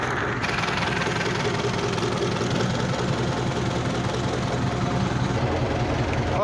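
A tractor engine idles with a steady, loud mid-to-low rumble while its plough sits raised during field ploughing; the drone is continuous and close, with no talk over it.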